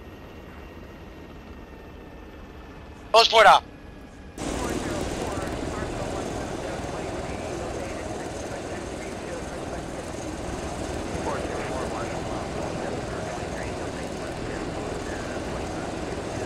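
A helicopter engine in Arma 3 runs steadily as troops disembark, a loud broadband drone kicking in abruptly after a brief radio-like voice burst, with someone speaking Spanish early on.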